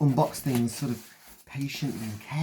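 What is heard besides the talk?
None of the usual background noises is heard.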